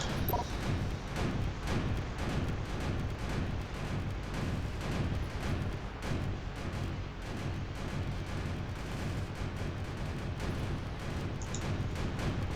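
A turret blown up in the Ruined Horizons video game, giving a dense, loud, sustained run of explosive blasts and crashing impacts that fill the whole stretch without a break.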